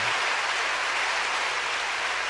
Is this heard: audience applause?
yes